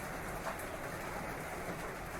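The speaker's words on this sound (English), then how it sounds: "Heavy rain on a tin roof." Heavy rain drumming on a tin roof as a library sound effect, a dense, even wash of patter with a faint low rumble, steady throughout and free of speech.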